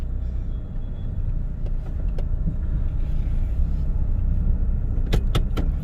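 A Honda CR-V carries a driver down the road, steady low tire and engine rumble inside the cabin, with a few sharp clicks and rattles near the end.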